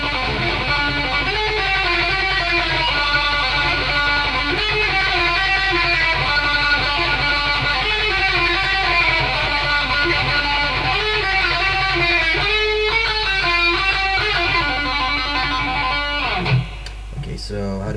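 Dense, fast electric guitar riff from the bridge of a metal song, played continuously and loud with rapid repeated strumming for about sixteen seconds before cutting off.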